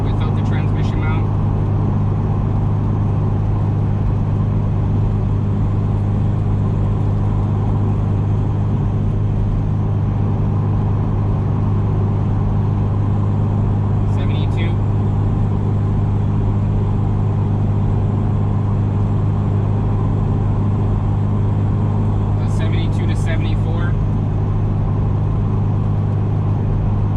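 Steady low road and engine drone inside a 2017 Subaru WRX Limited cruising at 70 mph, a constant rumble with a few faint brief ticks, no talking.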